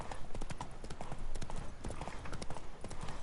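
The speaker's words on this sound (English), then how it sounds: "I think we'll just go horseback this time." Horse hooves clip-clop in a quick, steady galloping rhythm while riding in The Witcher 3 video game. The hoofbeats run continuously over background game ambience.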